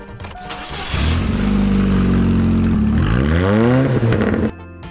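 A 2003 GMC Sonoma pickup engine cranks briefly, catches and fires up, settling into a steady idle with a quick rise and fall in revs before cutting off near the end.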